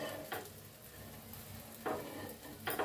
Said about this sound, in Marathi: जरा प्रेस करायचं छान भाजते ब्रेड आपलं।